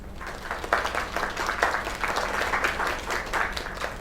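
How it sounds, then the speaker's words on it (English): Steady audience applause at a farewell performance, a dense wash of many hands clapping at moderate distance, sustained throughout without talk. "Another round of applause."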